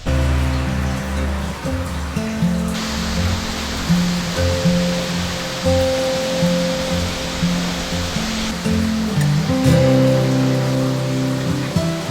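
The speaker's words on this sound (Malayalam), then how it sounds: "ഒറ്റ മഴയിൽ തന്നെ ശക്തമായ വെള്ളച്ചാട്ടമായി മാറുന്നതും" Njandirukki waterfall in Idukki, swollen by monsoon rain, roars as a steady, loud broadband rush that holds without pause for the whole stretch, with heavy rain blended into the near, constant wash.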